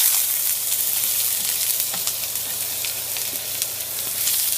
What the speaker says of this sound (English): we're going to go ahead and saute the onion